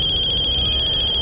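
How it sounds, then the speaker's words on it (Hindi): A telephone rings with an incoming call, a steady electronic warbling ringtone that pulses rapidly, loud and near, with no talk over it. "अरे, समदन जी का फोन है।"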